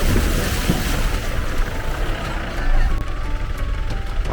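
A jeep pushes through water on the way to Dudhsagar waterfall in Goa, giving a loud, steady rushing and splashing wash with rumble that stays constant throughout.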